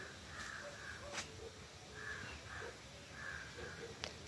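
Crows caw at dawn in a few separate bursts of calls spread through the stretch, moderately distant over a hushed early-morning background.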